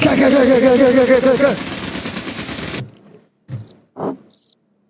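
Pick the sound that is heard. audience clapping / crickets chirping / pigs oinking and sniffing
crickets chirping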